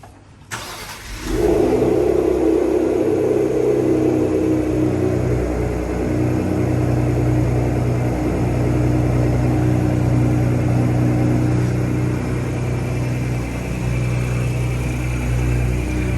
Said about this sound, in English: listen to how good the Borla exhaust sounds when you fire it up in the garage